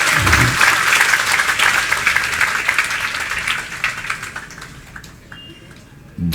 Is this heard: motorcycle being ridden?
no